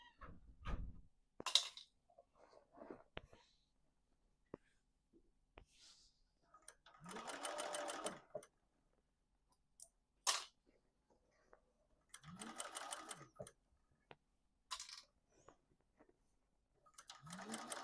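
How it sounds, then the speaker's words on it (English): A sewing machine stitches around a duffel bag in a circle, running in three steady bursts of rapid stitching separated by quiet pauses and a few handling clicks. "This bag is, or this machine is just so much easier to sew in a circle on"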